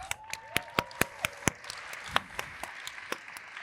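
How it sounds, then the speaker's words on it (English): A small audience claps in sparse, distinct handclaps that thin out over a few seconds, fairly close and moderately loud. "let's give her another clap"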